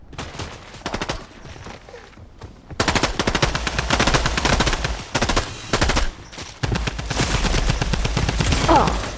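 Fortnite Midas drum gun firing long rapid-fire bursts, loud and close, separated by short pauses, with game audio throughout and faint talk in the background.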